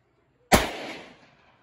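A single sharp gunshot from a Taurus RT 605 .357 Magnum revolver with a 2-inch barrel, fired over a chronograph: a loud, close crack with a short decaying tail, heard alone in otherwise quiet surroundings.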